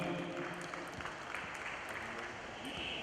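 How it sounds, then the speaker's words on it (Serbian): Audience applause at a table tennis event in Montenegro, a steady, dense wash of clapping held at an even level throughout, fairly distant, with a voice faintly audible underneath. "Molim vas aplauz za gospodina Maraša."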